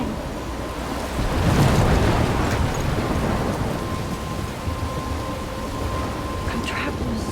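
Stormy weather in the video game Life Is Strange, with heavy rain pouring, wind gusting and deep rolling thunder swelling early on, then a steady drenching downpour with a faint tonal hum underneath.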